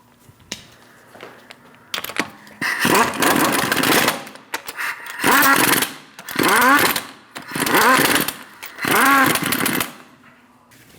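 A power tool snugs the lug nuts on a Chevrolet Malibu wheel in five loud, close bursts of rattling whir, separated by brief pauses with faint clinks.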